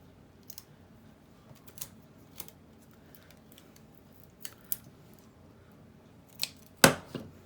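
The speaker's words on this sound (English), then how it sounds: "I wonder if I can cut it with pinking shears." Pinking shears snipping through decorative tape for a distressed journal tag, heard as a handful of quiet, separate cuts that build to one sharp, close snip near the end, with soft handling sounds in between.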